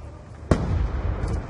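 A thrown grenade goes off in a video game with one sharp, loud blast, followed by a rumbling tail and scattered noise from the fight.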